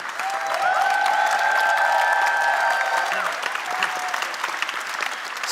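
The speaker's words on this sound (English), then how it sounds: "And a big round of applause to Nadeem," A crowd applauds a program organizer at a university closing event, with brief dense clapping swelling and then tapering, plus faint voices and cheers.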